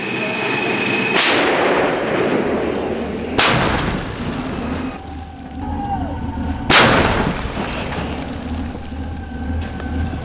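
Four heavy artillery booms fire at irregular intervals on the Ukrainian front line, each a sharp blast followed by a rolling echo that fades before the next.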